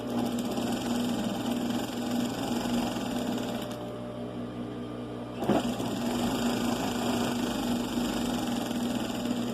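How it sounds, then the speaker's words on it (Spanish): A sewing machine runs a straight seam on fabric pieces while sewing a side pocket. It makes a loud, continuous motor whir with a steady stitching buzz that briefly drops off near the middle and then resumes. "lo único que hago es coser recto hasta el final de la pieza"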